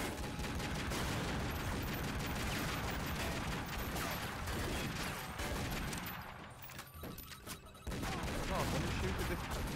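Rapid gunfire in Tomb Raider Legend clatters in dense bursts of sharp shots, loud and nearly continuous, briefly thinning before another volley resumes.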